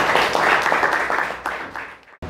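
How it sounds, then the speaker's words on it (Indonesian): Applause for a student group presenting in a classroom during teaching practice, a dense wash of many hands clapping steadily for about two seconds, then dropping off abruptly. "tepuk tangan untuk kelompok ini"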